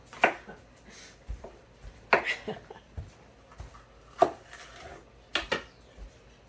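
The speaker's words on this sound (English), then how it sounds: "Just give them a rough chop too" Sweet peppers being roughly chopped with a knife on a board, a handful of sharp, irregular chops close by with brief pauses between strokes.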